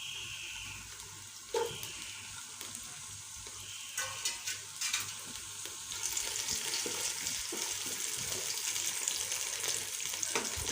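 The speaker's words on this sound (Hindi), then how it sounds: "तो पैन हमने ऊपर चढ़ा दिया, इसमें घी डाल के प्याज डाल दिया।" Onions hit hot ghee in a pan, giving quiet scattered clinks and bursts that settle into a continuous crackling sizzle that grows fuller as it cooks.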